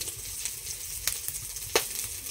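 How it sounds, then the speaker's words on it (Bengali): Cooking oil is poured into a hot kadai, heated for cooking chicken, giving a soft, steady sizzle broken by a few sharp crackling pops, with no talking. "ওই আলু ভাজি কড়াইতে আমি তেল দিয়ে দিচ্ছি পরিমাণ মতন।"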